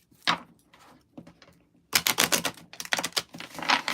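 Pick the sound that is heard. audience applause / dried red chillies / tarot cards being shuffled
tarot cards being shuffled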